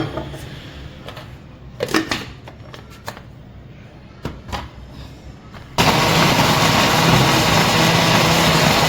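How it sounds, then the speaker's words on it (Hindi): A few sharp clicks and knocks precede a mixer grinder starting up to blend lemonade ingredients with water, its loud whirring roar running steadily to the end. "इसे डालते हैं मिक्सी में और वाटर ऐड करते हैं और एक ब्लेंड देते हैं"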